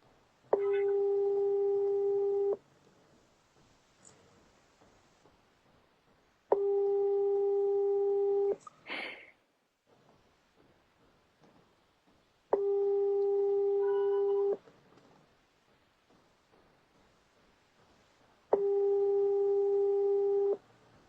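Telephone ringback tone while waiting for an answer on a call: four long steady beeps of about two seconds each, spaced several seconds apart, with faint background noise and a brief click between them.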